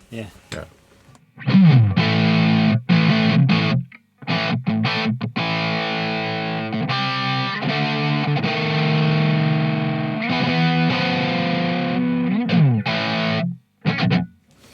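A heavily distorted electric guitar played through a Boss HM-2 or HM-3 distortion pedal plays chords and riffs loudly, with brief pauses between phrases.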